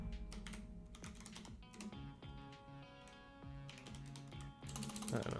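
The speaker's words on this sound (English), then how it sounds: "I don't know, I'm typing." Rapid, uneven keyboard clatter from typing runs almost continuously and close by, over a busy background of game music or tones during a webcam Gundam card game tournament.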